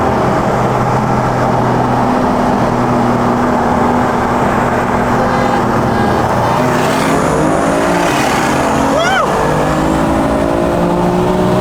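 A BMW F82 M4 accelerates hard on an open road in Mexico, its engine roaring loud and close throughout with rising pitch through the revs and gear shifts, heard from inside the car.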